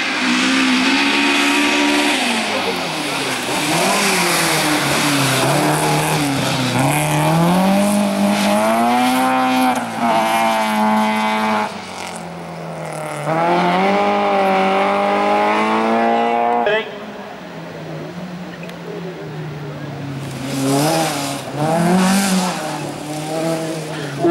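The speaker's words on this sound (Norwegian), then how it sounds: "Ole Helleberg Kongsberg i en Mercedes er inne i løypa." A Mercedes race car climbs a hill-climb course in Vikersund, its engine revving up and down through gear changes, loud and close for most of the run, with tyre squeal and a voice talking over it.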